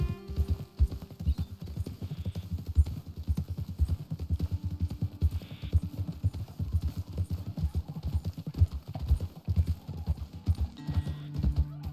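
Horse hooves in Red Dead Redemption 2 clip-clop steadily and continuously, several animals walking at an even rhythm on hard ground, with no talking.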